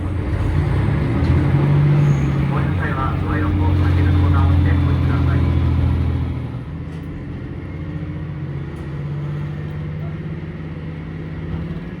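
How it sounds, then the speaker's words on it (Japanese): Deep rumbling train diesel engines roar steadily nearby at a rail depot in Shikoku, Japan, then drop to a lower, quieter idle drone, with a faint voice murmuring under the noise. "うなるエンジン音を聞きながら列車たちを眺めるのは最高ですね"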